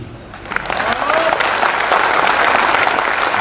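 A crowd at a political speech bursts into applause that builds quickly from a quieter start into loud, sustained clapping close by.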